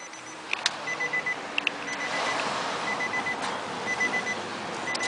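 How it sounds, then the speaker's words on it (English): Repeated electronic warning beeps in steady short pulses from inside a 2010 Nissan Maxima SV, sounding because the lights were left on, fairly faint over a low background hum. "Oh, I left the lights on, that's why it's beeping."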